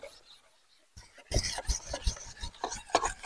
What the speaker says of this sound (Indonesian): Kita haluskan menggunakan batu asah alam ini sahabat